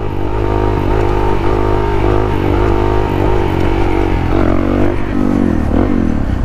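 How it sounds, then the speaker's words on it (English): Motorcycle engine running loud and close at a steady idle, rising and falling slightly in pitch with small revs for a warm-up wheelie, with a rough mechanical rattle under it. "Get a warm-up wheelie going."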